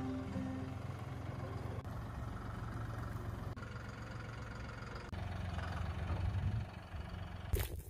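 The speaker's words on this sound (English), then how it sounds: "we're actually going to be flipping the tractor around" A tractor engine runs steadily at close range while the machine is turned around to face the other way, a continuous low rumble that holds throughout and ends with a brief, louder burst.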